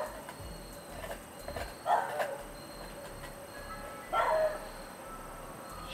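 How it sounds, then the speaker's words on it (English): A dog at a pumpkin carving gives two short, loud barks a couple of seconds apart, each a quick yappy burst over a steady background hum, with no one talking. "What are you barking at?"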